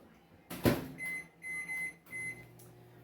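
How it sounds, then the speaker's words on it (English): A sharp click, then a microwave's steady hum with repeated short high beeps, close by. "I'm going to pop this in the microwave for 2 minutes"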